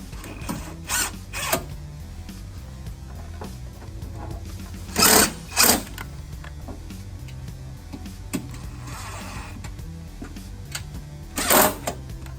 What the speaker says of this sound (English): I'm just using self-tapping screws to hold the fender in place